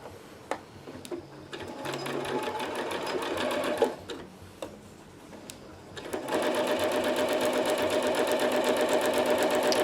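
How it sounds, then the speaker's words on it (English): A sewing machine stitching Hyper D ripstop fabric for a hammock runs in short bursts of rapid stitching, pausing briefly between runs, then stitches continuously at a steady fast rhythm. "I'm going to reset that up because I turned off my sewing machine last night."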